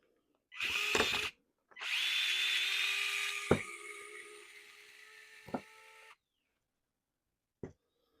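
A power drill drives kit screws into an RC crawler chassis, two whirring bursts with a short pause, then quieter clicks and taps, heard up close in a quiet room.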